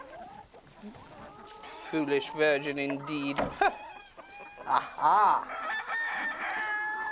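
Chickens cluck and a rooster crows loudly and close by in a farmyard henhouse, the calls coming in repeated bursts with people talking over and between them.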